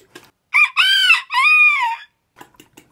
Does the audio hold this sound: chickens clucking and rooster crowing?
yes